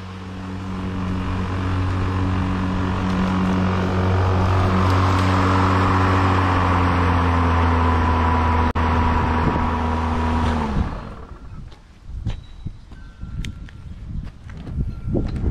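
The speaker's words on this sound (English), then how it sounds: "Man, this is the most realistic feeling mower." A Toro 60V commercial battery lawn mower runs with a steady, close whirring hum and a grassy rush that holds for about ten seconds, then cuts off abruptly, leaving only faint, scattered outdoor noise.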